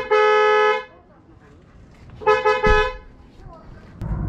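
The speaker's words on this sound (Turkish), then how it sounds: "şu anda düdüğe bastık, kornaya bastık" Two long, loud car horn blasts sound up close with a pause between them, followed by a bump and some low talking.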